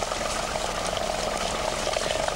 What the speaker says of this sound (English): The heat melts the solid ice, then it boils the water.